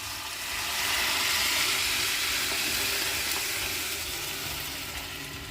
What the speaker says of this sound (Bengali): এখানে 2 বাটি জল আমি দিয়ে দিচ্ছি